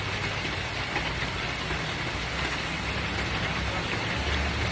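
Steady rain pours down on a leaf-strewn garden, a dense, even hiss of drops on surfaces that stays loud and unbroken throughout, with no voices.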